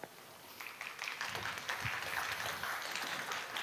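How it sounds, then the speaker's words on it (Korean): A church audience gives fairly quiet, scattered applause while two pastors come forward to open a Sunday sermon, with claps building slightly and holding steady. "박수로 맞아주세요."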